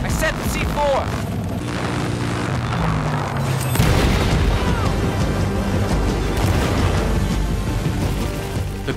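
Battlefield video game combat: a heavy C4 explosion boom midway followed by dense rumbling gunfire and artillery-like blasts, loud throughout, with a voice talking over the start.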